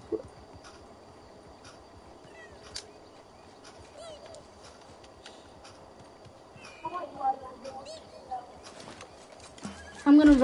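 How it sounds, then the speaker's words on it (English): A horse neighs and its hooves clip-clop in a video game, with faint game ambience, scattered clicks and a loud final burst as a voice talks over it. "I'm gonna ride my horse."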